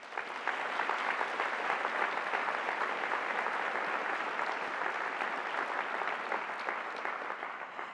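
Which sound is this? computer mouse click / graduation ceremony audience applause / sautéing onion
graduation ceremony audience applause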